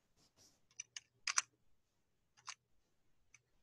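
Faint computer keyboard typing, a handful of sparse, separate clicks and short clusters of keystrokes close up, with long quiet gaps between them and no talk.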